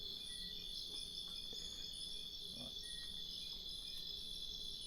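Insects chirp steadily at night in a quiet rural spot, a dense, continuous high-pitched trill that stays faint and even throughout with no voices.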